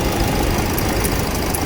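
A 2013 Toyota Etios car engine idles steadily with a dense, constant mechanical drone and no voices.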